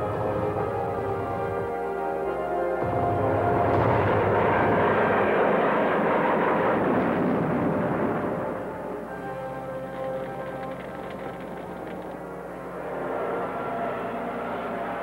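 World War II Japanese kamikaze aircraft engines drone loudly in a sustained propeller roar that swells and fades, the sound of an old, crackly archival recording with no voices over it.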